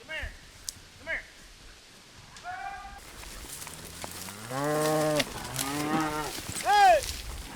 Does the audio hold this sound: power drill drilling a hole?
no